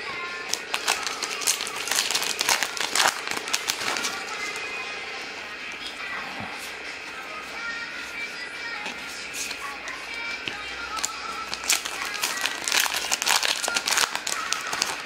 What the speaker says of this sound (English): let's just open the rest of the packs